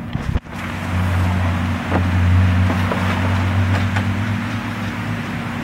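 Engine of a custom go-kart with a 400cc motor idles steadily as the clutch engages, giving a low, even drone with slight wind noise.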